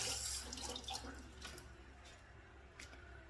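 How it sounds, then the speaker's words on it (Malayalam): Dishes washed under a running kitchen tap, with steady close water flow and splashing, a few clinks and drips over it, fading a little after the first second. "പാത്രവും കഴുകണം"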